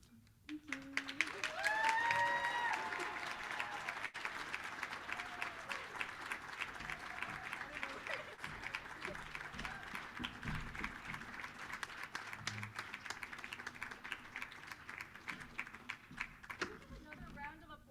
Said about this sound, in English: Another round of applause for Lex for her original piece.